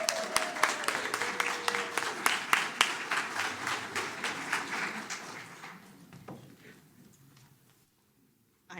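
Audience applause at a Seattle Labor Chorus concert: dense, sustained clapping with sharp individual claps standing out, holding steady for several seconds and then thinning and fading away to near silence.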